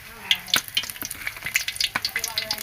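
Marinated river fish sizzling as the pieces go one by one into hot oil, with bright crackling bursts and spitting over a steady hiss, close and moderately loud, with no talk.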